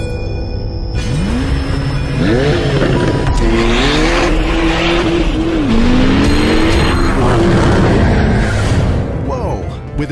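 A Porsche 911 Turbo S's 3.8-liter twin-turbo six-cylinder boxer engine revs and climbs in pitch through several gear changes, loud and close, with wind roar and a voice talking over it.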